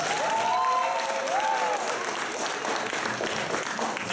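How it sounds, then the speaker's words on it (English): Audience applausing volunteers at a poetry slam event, a dense steady wash of clapping throughout with a faint tonal whistle near the start. "So please, a huge round of applause for all the volunteers."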